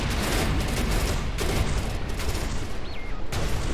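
A mine detonates in the space shooter Everspace 2, giving a dense, loud burst of crackling blasts over a constant roar of combat noise lasting a few seconds.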